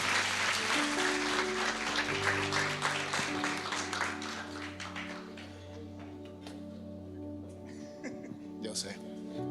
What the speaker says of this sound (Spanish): Y démosle un aplauso a nuestros modelos, a Andrés también.